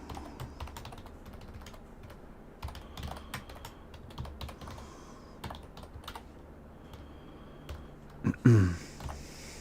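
Typing on a computer keyboard in bursts of quick, irregular clicks at close range, fairly quiet, with a louder clatter of keys near the end.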